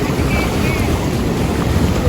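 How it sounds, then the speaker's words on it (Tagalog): Strong ocean waves at Cabongaoan Beach's death pool: loud, continuous surf wash mixed with wind buffeting the microphone, steady throughout with no clear speech. "ang lakas ng alon"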